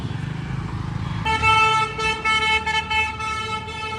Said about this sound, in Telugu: నువ్వు ఎందుకు కొడుతున్నావురా ఊరికే హార్న్?